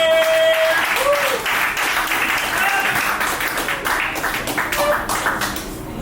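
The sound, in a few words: audience applause for a comedian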